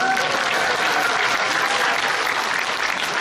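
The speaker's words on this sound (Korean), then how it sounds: "박수 한번 주시죠" A seated audience at a veterans' testimony gathering gives a round of applause, a thick, even burst of many hands clapping at full volume from start to finish.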